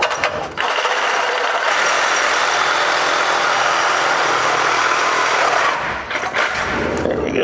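A power tool cuts through the old exhaust pipe on a 1966 Ford F100, a loud sustained grinding whine running almost the whole time, with brief breaks near the start and end.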